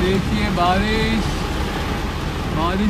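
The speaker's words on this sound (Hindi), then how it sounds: "बारिश देखिए, बारिश क्या ज़बरदस्त बारिश हो रही है।" Heavy summer rain drums steadily and loudly on a car on a Hyderabad road, a constant dense hiss close around the vehicle while someone talks over it throughout.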